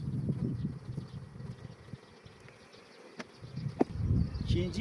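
Honey bees buzz steadily around a hive fitted with 30-frame boxes, a dense low drone running throughout with a few brief clicks and knocks close by.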